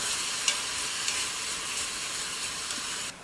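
Meat sizzling in a hot pan while being stirred: a steady, close, hissing fry with a few small scraping clicks, cutting off abruptly at the end.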